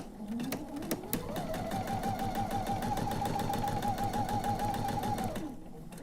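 A sewing machine stitches quilt pieces for a mystery quilt, running at a steady rapid clatter that speeds up, holds for several seconds, then winds down, close and loud with no talking.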